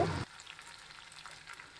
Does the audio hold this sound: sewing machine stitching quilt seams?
no